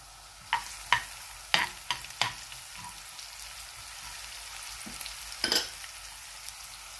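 Oil sizzles steadily in a pan with cumin and onion frying, broken by several sharp clattering stirs near the start and another burst of stirring later.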